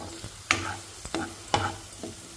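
Bitter gourd frying in oil in a pan, stirred in sharp, evenly spaced scrapes about every half second over a soft sizzle, close and quiet, with no talking.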